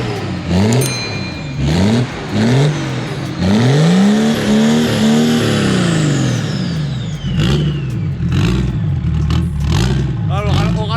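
A car engine with a chimney-style pipe fitted on the hood cranks and catches, then revs up and down in several rising and falling surges, loud and close throughout.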